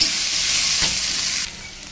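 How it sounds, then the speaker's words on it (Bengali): Bitter gourd and potato fry together in oil seasoned with panch phoron, giving a steady, loud sizzle with stirring that drops slightly in level near the end. "করলা আর আলু একসাথে ভাজি করছি পাঁচফোড়ন দিয়ে।"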